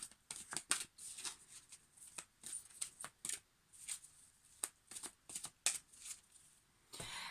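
Quantum Illumination Guidance oracle cards being shuffled by hand, a quiet, close series of crisp riffling flutters and soft slaps in an irregular rhythm, with no talking.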